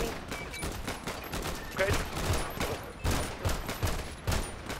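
Rapid gunfire bursts in GTA V from a stolen DCSO police cruiser, repeated volleys of shots close and loud under a short spoken word and radio-style chatter.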